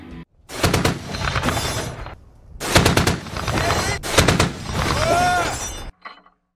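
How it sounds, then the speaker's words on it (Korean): A BMP-2 infantry fighting vehicle's 30mm autocannon fires in several loud, rapid bursts with sharp repeated reports and ringing echoes, separated by brief gaps, ending in a short trailing burst. "BMP-2의 30mm 기관포는 안전장치가 장착되어 있어 이동간 사격이 가능하고"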